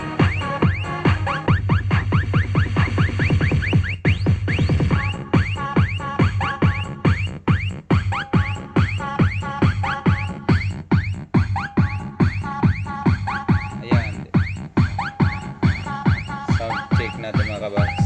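A Konzert D15 subwoofer rated at 300 watts, tested at night, pumping loud, steady music with a dense, continuous beat and heavy low end throughout.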